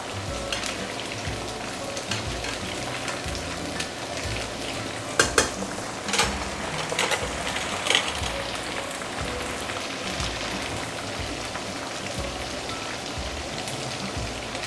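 Battered pork pieces deep frying in hot oil for sweet and sour pork, a continuous close crackling sizzle of bubbling oil with scattered louder pops, without any talk.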